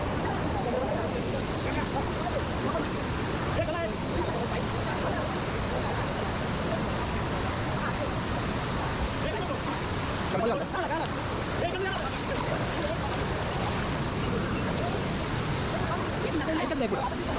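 Kalu waterfall roars in a dense, continuous wash of falling water, loud and steady throughout, with indistinct voices partly buried beneath it.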